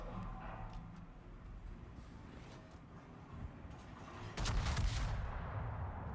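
A World of Tanks style tank cannon firing in a video game: a deep, heavy boom bursts out near the end over a steady rumbling engine and background battle noise, with faint distant shots earlier.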